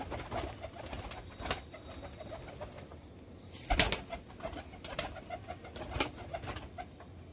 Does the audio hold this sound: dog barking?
no